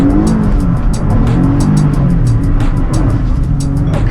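A 2020 Jeep Gladiator Sport on stock rims and tires spinning a donut: loud, continuous engine roar with tires squealing in quick repeated chirps, close by, no talking.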